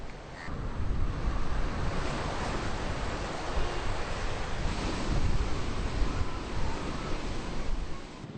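Sea waves roll in along the Mumbai seashore, a loud, continuous broadband roar of surf with gusting wind buffeting the microphone and no breaks.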